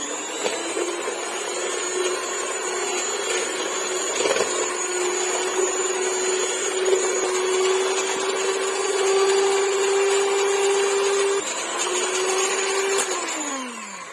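Electric mixer or blender whirring steadily as it blends chocolate cake batter with warm milk and oil, a loud continuous motor hum that rises slightly in pitch near the end before winding down, with no talking.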